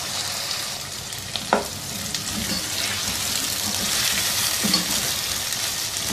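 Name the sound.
sliced onions frying with whole spices and ginger garlic paste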